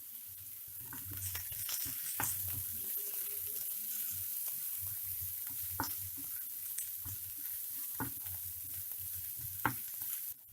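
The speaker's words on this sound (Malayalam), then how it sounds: "ഇതെല്ലാം കൂടി നന്നായി സോട്ട് ചെയ്തെടുക്കാം." Onions, green chillies and spices sautéing in a pan for a Kerala prawn roast, a steady loud sizzle with repeated sharp scraping stirs throughout, no voices.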